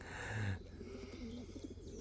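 Pigeons coo in a loft during early breeding season, soft low calls repeating under a steady background hum, fairly close and moderately quiet.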